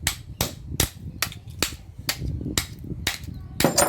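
Hammer blows knocking apart old fluorescent light ballasts to reach the copper inside, about nine sharp metallic strikes at a steady, fairly quick pace, each a loud close crack with rattling debris and clatter between hits.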